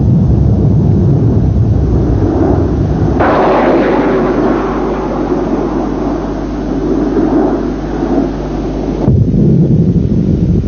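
Panavia Tornado jet aircraft flying: a loud, continuous roar with a deep rumble that swells in the middle section, then settles back into a broad wash of noise.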